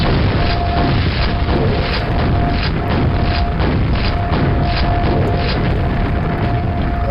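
Grenade launcher explosions in Quake on Nightmare difficulty, a loud continuous barrage of deep booms and rumbling blasts overlapping with little pause, with a faint steady tone running through.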